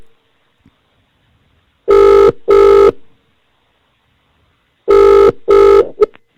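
Outgoing phone call ringback tone: two pairs of loud double rings, each pair short and evenly spaced, separated by several seconds of near silence, with a brief click at the end.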